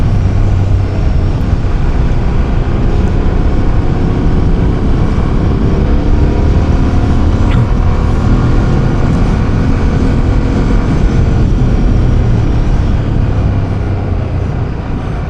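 A Fantic Caballero 700 motorcycle engine runs at a steady speed while the bike rides, with a loud, constant drone and rushing wind and road noise throughout.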